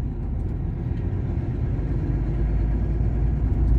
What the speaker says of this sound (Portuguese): O caminhão apresentou aqui umas falhas aqui.